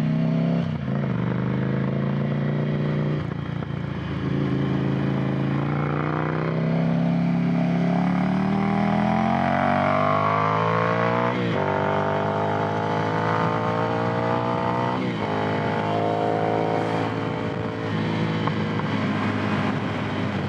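Ducati Monster 797 motorcycle heard while riding toward the interstate, its engine revving up through several gears in repeated rising sweeps, loud and close with steady wind noise.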